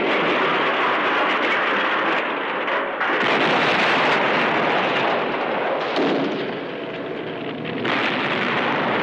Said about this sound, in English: There's been an accident, an explosion.